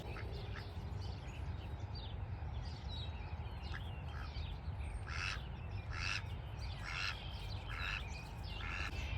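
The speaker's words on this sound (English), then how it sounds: "He is a male duck." A male duck calls outdoors on a garden deck: a series of short, repeated quacks rising over steady background noise, moderately distant and fairly faint.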